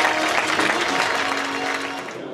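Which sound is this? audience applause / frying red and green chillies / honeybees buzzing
audience applause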